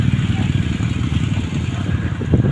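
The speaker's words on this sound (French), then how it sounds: "Il y avait toute une rangée de motos là qui commençait à démarrer." Several motorcycles in a row start up and idle on a street, a steady low engine rumble running throughout, moderately loud and fairly close, with some background noise but no clear speech.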